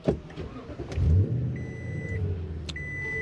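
A pickup truck engine starts up nearby, a brief cranking burst followed by a steady idle that settles into a low, even rumble, with no talk.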